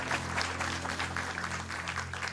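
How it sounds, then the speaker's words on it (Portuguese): Applause from a church congregation after a prayer for a sister, steady dense clapping over a low electric hum, fairly loud throughout. "Um forte aplauso pela vida da irmã Elisa, em nome de Jesus"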